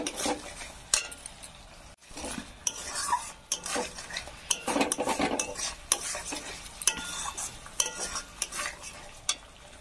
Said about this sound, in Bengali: এটা ভালো করে ফের আমি কষে নেব